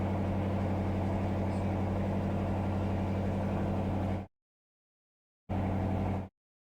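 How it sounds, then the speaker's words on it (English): A motorcycle engine outside drones loudly with a steady rumble, then cuts out abruptly and briefly returns before stopping again. "there's a fucking motorcycle outside"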